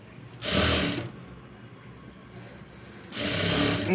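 A sewing machine stitches the folded front part of a garment in two short bursts, each running about half a second to a second, with a quiet pause between them.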